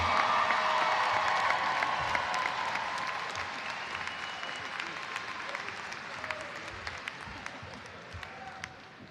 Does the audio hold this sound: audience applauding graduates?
yes